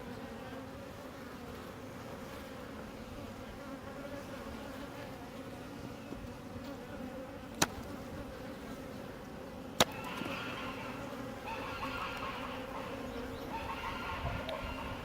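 Honey bees buzzing around an opened hive frame just after the queen leaves her cage: a dense, steady drone close by, with a couple of sharp clicks partway through and a slight rise in buzzing later.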